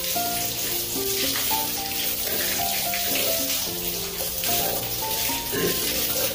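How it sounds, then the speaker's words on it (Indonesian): Cloth diapers and inserts being rinsed in water, a steady close splashing and running-water wash with sloshing, continuous throughout, no talking. "lakukan pembilasan pada klodi dan insert"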